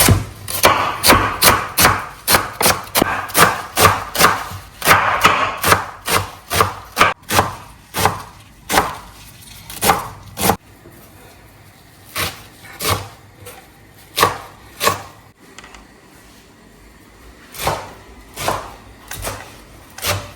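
A knife chops okra on a wooden board, rapid regular knocks at first, then slower spaced thuds with short pauses, close and crisp with no talking.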